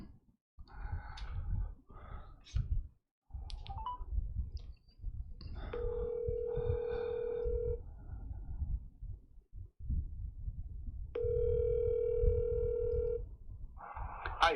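A phone call is being placed: quick touch-tone dialing beeps come first, then two long, steady ringback tones with a quiet gap between them, clear and close with no talking over them.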